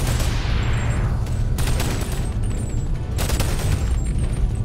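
Loud, sustained gunfire in the VR shooter BONEWORKS, a dense fusillade of overlapping shots with sharp bursts standing out, continuous throughout with no talking.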